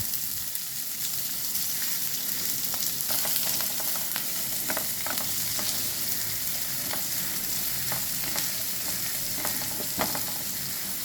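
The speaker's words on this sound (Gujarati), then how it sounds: "હવે આપણા તેલ ગરમ થઈ ગયું છે. આપણે એમાં નાખીશું જીરું. હવે આપણે એમાં નાખીશું કાંદા." Cumin and chopped onions fry in hot oil for bread pakoda, giving a continuous crackling sizzle with scattered sharp pops and stirring taps throughout, no voices.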